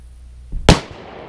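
A single sharp gunshot cracks at a pineapple on an outdoor shooting range, a loud close report with a short decaying tail after a brief quiet lead-in.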